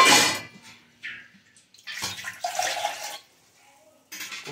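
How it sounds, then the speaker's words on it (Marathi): Cooking ingredients washed clean with water make intermittent splashes and pouring bursts, separated by short quiet gaps, with soft voices briefly in between. "असं आपण स्वच्छ धुवून घेऊया."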